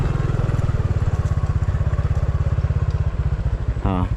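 A motorcycle engine idles with a steady low, pulsing putter throughout, close by, and a brief higher rev rises near the end.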